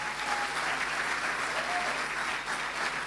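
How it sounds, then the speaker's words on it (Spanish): A church congregation claps for the Lord during a Sunday-morning service, a dense, steady wash of applause filling the whole moment with no clear gaps. "¿Cuánto le dan un fuerte aplauso al Señor esta mañana?"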